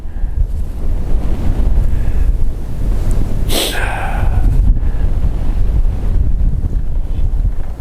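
Strong, cold, steady wind buffets the microphone in a constant low roar, with a brief gusty hiss midway.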